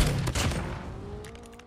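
Iron Sight gun firing in Call of Duty, a rapid burst of loud close gunshots followed by a fading mechanical whine and metallic clinks.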